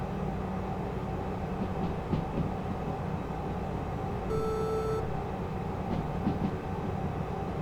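A train rolls along in the railway simulation game Derail Valley, a steady low rumble of wheels and engine throughout, with a brief high electronic beep partway through and no talking.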